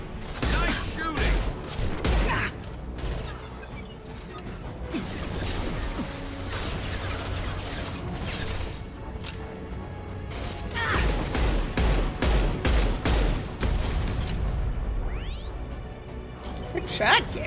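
Combat gunfire in the Mass Effect 2 video game: rapid bursts of shots and impacts crackle throughout, with clanks and mechanical sounds, under character voices speaking.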